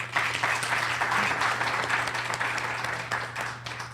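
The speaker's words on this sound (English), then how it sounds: "So I would like to recognize the Bradenton Mayor, Gene Brown. Please give him a round of applause" An audience at a Tiger Bay Club community luncheon in Manatee gives a round of applause for Bradenton's mayor, a broad, even clatter of many hands over a constant low hum, fading slightly toward the end.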